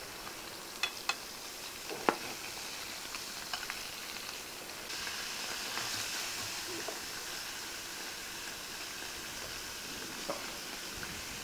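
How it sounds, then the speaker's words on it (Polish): Pork ribs sizzle steadily in a hot pan over a campfire, a continuous frying hiss with scattered pops and crackles throughout, heard close and alone with no talking. "o, tak skwierczy pięknie"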